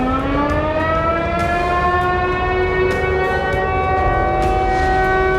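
An air raid siren sounds a red alert in Ukraine during Russian attacks, a loud sustained wail with a slowly rising pitch that keeps going without a break.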